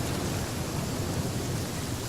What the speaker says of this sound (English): Now all I gotta do is find some place to dock and get out of this rain.